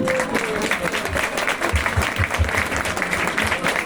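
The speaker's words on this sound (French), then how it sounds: "Du bruit s'il vous plaît pour Papy Youyou." An audience at an open mic in a café in Perros-Guirec claps steadily and fairly loudly throughout, a dense wash of applause with no voices standing out.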